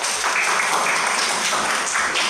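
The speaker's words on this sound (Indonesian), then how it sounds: "Tepuk tangan." Classroom applause after a group presentation: a brief burst of many hands clapping, close and fairly loud, steady throughout with no speech.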